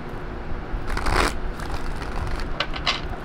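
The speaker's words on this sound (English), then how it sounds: "2 more shuffles, please" Tarot cards shuffled by hand in a few quick bursts, a soft riffling crackle that swells mid-clip and returns in short flurries near the end, close and fairly quiet.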